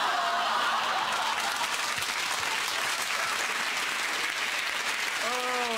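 A studio audience on a British TV chat show bursts into sustained loud applause, dense and steady throughout with a little laughter mixed in.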